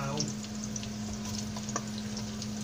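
Garlic frying in a pan, a steady close crackling sizzle over a constant low hum, with small pops and taps scattered throughout.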